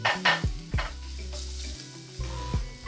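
Tomatoes sizzle and fry in a pan with golden-brown onions and garlic, a steady close hiss broken by several scraping stirs, with no one talking.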